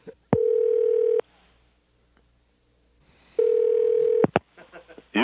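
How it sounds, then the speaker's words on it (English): A landline telephone with a steady dial tone that starts and stops twice, then brief dialing tones and clicks, heard close and alone with no talking. "we're calling the number right now"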